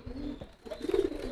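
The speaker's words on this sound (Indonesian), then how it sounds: "merpati dari pasar." A market pigeon coos up close, giving a short low throaty call followed by a longer rolling coo, with nothing else heard.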